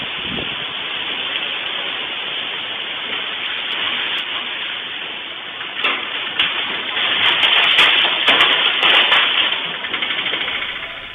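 Heavy rain and gusting wind roar during a storm in Visakhapatnam, a dense steady wash of noise that swells louder in the second half, with scattered crackling bursts.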